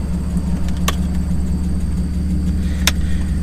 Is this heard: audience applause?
no